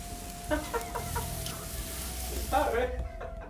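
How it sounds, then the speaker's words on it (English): Chickens cluck outdoors in a couple of short bursts, one early and one near the end, over a steady background hum and faint ambience. "Chicken's over there."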